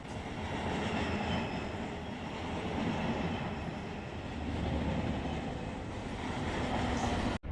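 A freight train in the Run8 Train Simulator game rolls along at a steady pace, a continuous loud rumble of wheels and wagons that holds for several seconds before cutting off abruptly.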